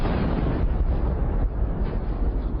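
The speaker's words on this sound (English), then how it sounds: "the ammunition he was carrying also exploded" Ammunition aboard an armored vehicle cooking off after a drone strike, a sustained loud, rumbling roar of explosion with dense low-end energy and no separate bursts, running steadily throughout.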